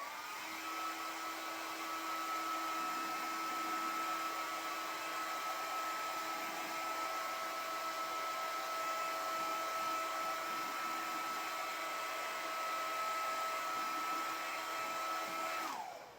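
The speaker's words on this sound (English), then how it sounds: "So that's why I'm using a hairdryer." A hair dryer blows steadily with a constant whirring hum and airy rush, running close and uninterrupted before cutting off at the end.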